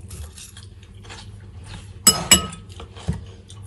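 A utensil clinks against a bowl while grape salad dressed with olive oil is tossed, giving two sharp close clinks and a softer tap over quiet background.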